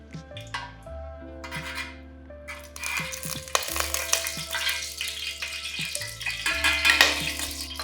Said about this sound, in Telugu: అందుకని ఫస్ట్ జీలకర్ర కొంచెం ఫ్రై అవుతుంది